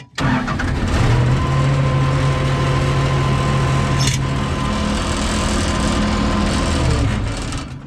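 A Case 855D loader's engine cranks and starts with a sudden loud catch, then runs steadily at a loud, close idle with a droning mechanical tone until a brief dip near the end, with no talk.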